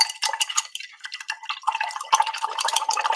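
Paintbrush being rinsed in a water pot: light sloshing, dripping and tinkling against the container, fairly faint and close, in quick irregular splashes with no talk.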